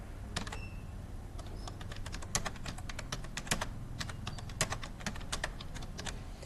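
Steady typing on a computer keyboard while entering a longer line of text in PowerPoint, with close, crisp key clicks in an irregular stream for several seconds and no talking.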